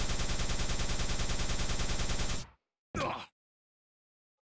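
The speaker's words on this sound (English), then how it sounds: "So another grenade pre-fire into plasma, perfectly timed." Rapid rhythmic bursts of plasma gun fire from Quake 3 run loud and steady for about two and a half seconds, stop abruptly, then a short sharp grenade-like blast follows after a brief silence.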